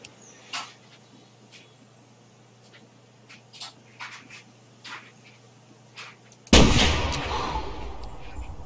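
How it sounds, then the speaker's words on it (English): A single loud rifle shot fired at an elk in the hunting game theHunter Classic rings out sharply near the end, its blast decaying slowly after faint scattered clicks and ambient game sounds. "We might go ahead and just take him with the rifle."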